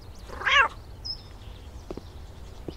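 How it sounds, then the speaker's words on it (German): In the café management game Cafe Owner Simulator, a cat lets out a single loud, drawn-out meow that stands clearly above a quiet night-shift room, followed by faint clicks and soft background sounds. "Katze, warst du das?"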